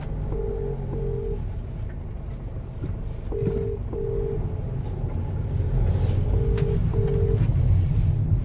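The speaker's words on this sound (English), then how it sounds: "So I'm going to ring this customer now and you're going to hear what I'm going to say to them." A phone dials a customer and a repeating two-beep ringback tone sounds three times at a steady rhythm, heard over a low rumbling background with no talk.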